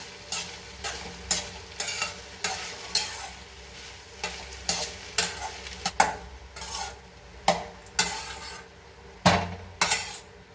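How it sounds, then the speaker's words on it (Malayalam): Cooked ponni rice is stirred into a tamarind mixture for puliyodharai, giving a steady run of close, rhythmic spoon scrapes and soft mushy turns against the pan, with no talking. "അത് ചേർത്തിട്ട് നന്നായിട്ട് ഇളക്കി മിക്സ് ചെയ്ത് സെറ്റാക്കി കൊടുക്കാം"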